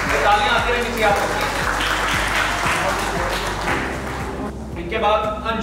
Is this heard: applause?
yes